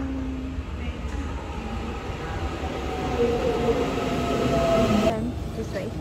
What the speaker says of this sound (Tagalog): So, padating na yung train, guys.